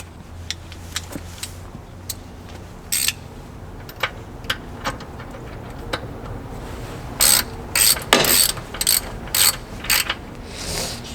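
A ratchet wrench clicks in short bursts while tightening the oil drain plug on a Mercury 115HP outboard motor during a service, with scattered single clicks first and then louder, quicker runs of ratcheting close by.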